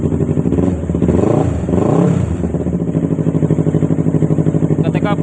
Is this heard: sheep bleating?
no